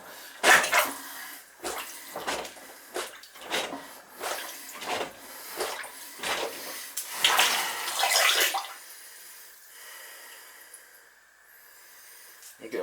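Water flushing into a clogged, backed-up shower drain comes in repeated gushing, splashing bursts, then gives way to a quieter steady trickle.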